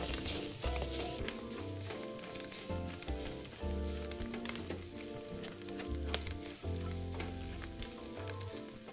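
Chopped dried shrimp and preserved radish are stir-fried together in shallot oil, with a loud, steady sizzle and repeated spatula scrapes and tosses close up.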